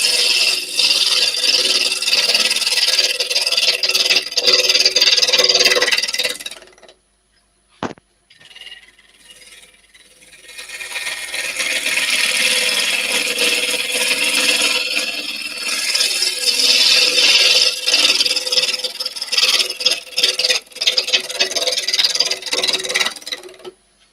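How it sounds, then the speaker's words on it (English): A 3/8 spindle gouge cuts wood on a lathe, with a loud continuous rasping scrape, a short pause and one sharp click, then the cutting resumes steadily and close. "I'm using my 3/8 spindle gouge at the moment to turn this."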